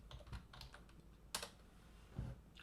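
A few sparse keystrokes tapped out on the small keyboard of an Atari Portfolio palmtop computer while entering a command, with irregular clicks spread apart and one sharper press in the middle, close and fairly quiet.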